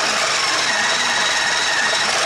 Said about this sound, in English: So the motor itself seems to be pretty tough for a little plastic motor.